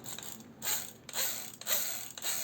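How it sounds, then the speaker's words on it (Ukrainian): A cheap cordless mini saw motor with no brushes, its brush springs scraping the commutator, makes a rapid metallic scraping chatter, pulsing in short bursts about every half second, close and fairly quiet. "пружинки труть об колектор і такий звук"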